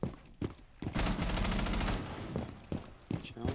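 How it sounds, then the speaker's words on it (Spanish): Video game gunfire comes at the player in several sharp bursts, including one sustained rattling volley, at moderate loudness with no speech. "Estoy cubierto y me empiezan a dar balazos"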